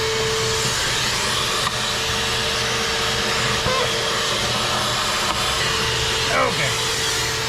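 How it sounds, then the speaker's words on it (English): A loud, continuous sucking, whooshing roar from a 2018 GMC Acadia, steady and close throughout with a low hum beneath. "Loud sucking noises."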